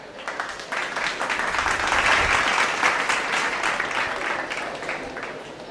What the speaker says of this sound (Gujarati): તો જોરદાર તાળીઓ થઈ જાય પ્રદ્યુમન માટે